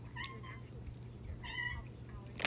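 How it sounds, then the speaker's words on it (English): A domestic cat meows softly several times in a quiet room, with faint rustling in the background. "Hold on, let me let my cat out."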